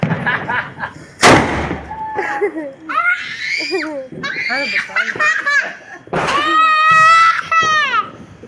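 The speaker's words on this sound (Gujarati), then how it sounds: "ફટાકડા ફોડ્યા આપણે" One sharp firecracker bang cracks out nearby during Diwali celebrations amid excited shouting, shrieks and laughter from several people.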